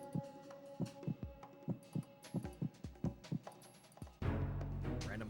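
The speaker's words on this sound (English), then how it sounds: "Random heartbeat noises" A regular thumping heartbeat sound effect from the video game Metal Gear Solid 2 pulses about a dozen times over a low hum, then gives way to a louder burst of other game noise.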